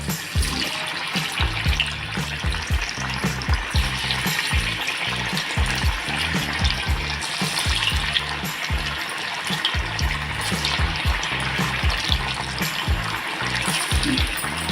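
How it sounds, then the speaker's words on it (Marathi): Onion vadi, a Maharashtrian fried snack, bubbling and sizzling in hot oil in a pan, a loud, steady, dense crackle that continues unbroken without any voices. "आता आपण या मस्त अशा तळून घेणार आहोत. आपण इथे तेल गरम करत ठेवलेलं आहे."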